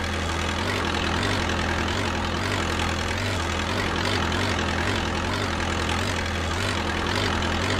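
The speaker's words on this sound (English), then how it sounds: "Drive the forklift backward into the center of the aisle where you initially parked." A forklift engine in a VR forklift training simulator game drones steadily and loudly, a continuous low idling rumble with a faint periodic pulse that neither rises nor falls, and no voices.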